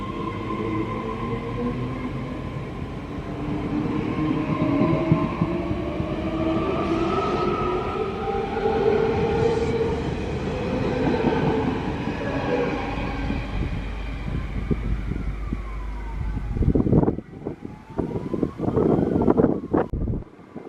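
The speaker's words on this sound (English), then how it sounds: "There's a container train." A long container freight train rumbles steadily past on narrow-gauge track near Brisbane, with rattling wagons and wind noise, the clatter rising near the end.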